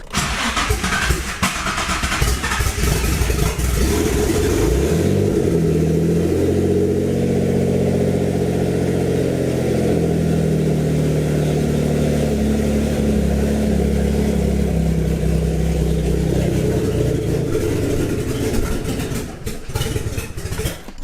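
A fully built Greddy twin turbo Infiniti G35 engine cranks, fires up and settles into a loud, steady, rumbling idle close by, holding for a long stretch before faltering near the end; no one speaks.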